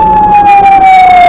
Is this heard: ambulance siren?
yes